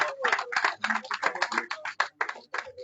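A small crowd at a press club event claps in a quick, uneven patter of hand claps, fairly close and dry, without any voices.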